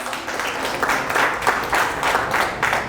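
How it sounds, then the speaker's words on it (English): Women at a breast cancer awareness gathering applaud in a dense burst, with the clapping swelling in loose waves throughout. "Round of applause for yourselves."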